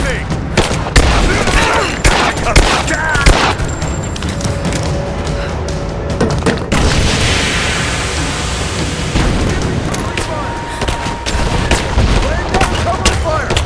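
A firefight in the video game Rise of the Tomb Raider: loud, dense gunfire with rapid automatic bursts and booming shots throughout, and voices shouting now and then over the shooting.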